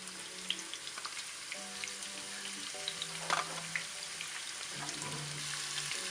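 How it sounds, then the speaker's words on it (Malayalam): Onions sizzle and crackle steadily in hot oil, a busy frying hiss with occasional sharper pops and faint tonal hum underneath, no talking. "അതുകൊണ്ട് ആദ്യം നമുക്ക് ഉള്ളി വറുത്ത് കോരാം."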